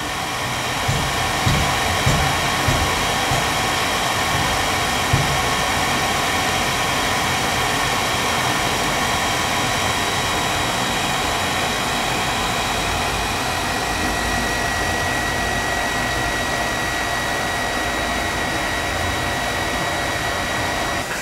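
Booster water pump running steadily at about 20 cm, a constant close whirring hiss with a low motor hum that stays level and fairly soft throughout, no voices.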